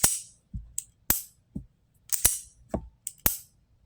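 Ruger EC9s pistol trigger being worked dry, a series of sharp, close clicks from the trigger reset, about eight in irregular succession with brief gaps, no talking.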